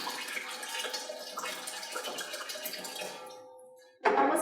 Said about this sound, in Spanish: nosotros vamos a agregar agua a nuestro vaso precipitado.